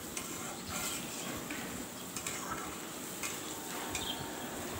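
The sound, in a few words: sautéing potatoes with fish in a pan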